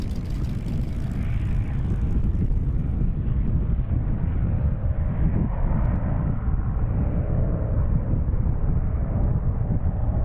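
A restored P-51C Mustang fighter, a Red Tail airplane, flies overhead with a steady, powerful engine drone. It sounds near and loud, mixed with wind buffeting and no voices.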